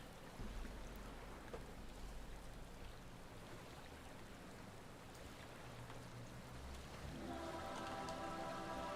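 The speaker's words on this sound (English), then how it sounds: "it is just raining here" Rain falls steadily in Final Fantasy XIV, a dense, even hiss of drops at low level, with a faint tonal hum joining toward the end.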